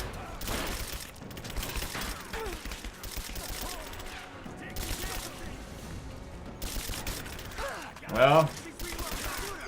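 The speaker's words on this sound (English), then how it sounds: "Oh, you've been shooting me all this time?" Enemy gunfire aimed at the player in Rise of the Tomb Raider crackles in repeated bursts under game sounds and someone speaking, with one louder tonal hit near the end.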